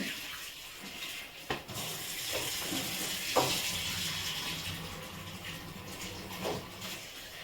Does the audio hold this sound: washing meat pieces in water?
yes